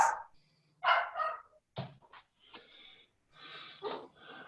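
A dog barks and snorts in the background during a council meeting, giving a few short separate huffs and yips with quiet gaps between them, no talk over them.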